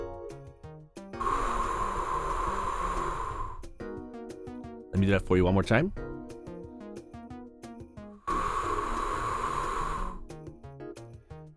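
A beginning trombone player blows air through relaxed, open lips in two long, breathy rushes with a sharper gust between them. A voice speaks over part of it.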